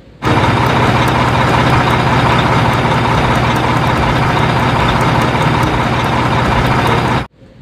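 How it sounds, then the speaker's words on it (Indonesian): A toy tow truck plays a steady, loud electronic engine sound that runs for about seven seconds and then cuts off abruptly, with no talk. "Mobil keren atau truk derek."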